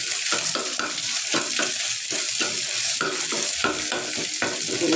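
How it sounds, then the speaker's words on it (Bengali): An egg sizzles in a frying pan beside noodles cooked with vegetables and chicken: a steady, close hiss of hot oil broken by regular scraping stir strokes throughout. "এইদিকে একটা আমি ডিম ভাজে দিতেছি"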